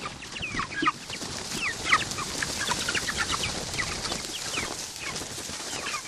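Several chickens cluck and chatter in a busy, steady stream of short calls, fairly close, with no talking over them.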